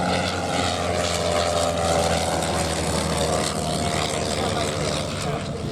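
A propeller aircraft drones overhead at the Shuttleworth Festival of Flight, giving a loud, continuous engine roar that holds steady throughout, with someone talking over it.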